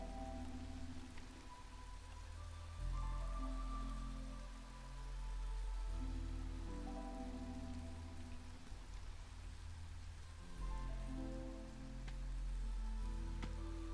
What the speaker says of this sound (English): they might be working slower here in the rain